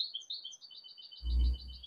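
A goldfinch sings a steady run of thin, high twittering chirps outdoors, clear and continuous, with a brief low rumble partway through.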